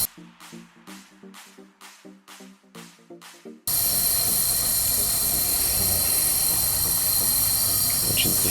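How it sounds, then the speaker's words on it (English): Compressed air at about 100 psi hisses steadily out of the exhaust of a Mazda CX7 engine under leak-down testing, a loud continuous rush that starts abruptly after several rhythmic mechanical pulses. "It is leaking out the exhaust."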